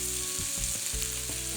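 Ground beef sizzling as it browns in a pan for Bolognese sauce, a steady close crackle and hiss with small pops throughout, no voices.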